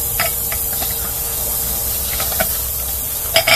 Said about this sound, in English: I shot some starting fluid down there